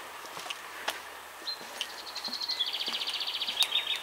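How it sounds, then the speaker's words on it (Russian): Small birds sing and chirp outdoors on a spring walk in southern Estonia, with scattered single calls giving way to a fast repeating trill, moderately near and heard alone. "Птички поют."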